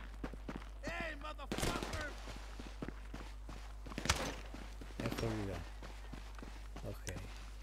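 Rapid gunfire in the video game GTA V, with several sharp bursts of shots over a steady low game hum, while someone talks in Italian throughout.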